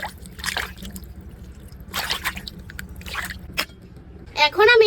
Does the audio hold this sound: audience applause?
no